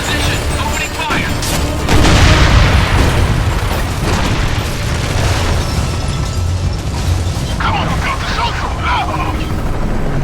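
In the Gears of War 2 video game, a Centaur tank opens fire amid heavy combat, with loud, continuous booming explosions and rumbling blasts while voices call out over the din.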